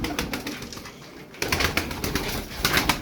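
Flock of tumbler pigeons kept as a colourful play-bird team, cooing and rustling steadily up close, with a brief quieter dip before the busy sound resumes.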